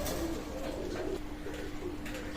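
A Pakistani Teddy pigeon of raw bloodline coos softly in a few low, drawn-out notes, faint under a steady background hiss.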